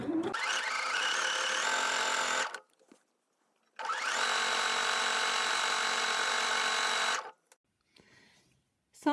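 Sewing machine running a number 3 gathering stitch on fabric, two sustained bursts of fast whirring, each lasting a few seconds, separated by a short pause, loud and close with no speech.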